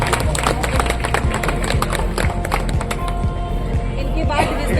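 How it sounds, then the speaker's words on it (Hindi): A crowd claps continuously with dense, steady applause at a Civil Defence Day ceremony, while voices carry over it throughout. "एक बार जोरदार तालियां आप लोग प्लीज जो है बजाएं"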